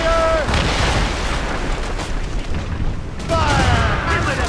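Ship's cannons firing in Assassin's Creed Rogue naval combat, a loud rolling barrage of booms and rumbling blasts under shouted crew commands, with whistling projectiles at the start and again near the end.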